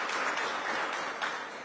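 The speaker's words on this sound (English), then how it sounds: "Give Trayon a big round of applause" A crowd applauds a Ward 8 council member at a mayoral union agreement signing event in Washington, DC, producing dense, steady clapping at moderate volume that stays even throughout the short burst.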